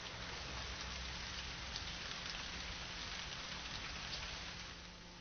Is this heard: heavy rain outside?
yes